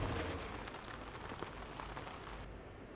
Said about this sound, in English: Hear that rain? It's coming down.